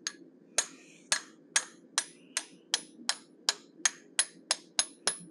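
A hammer strikes a chisel while cutting the mouth into a forged steel bear head, about fourteen sharp, ringing metallic blows at a steady, slightly quickening pace, close and distinct over a quiet background.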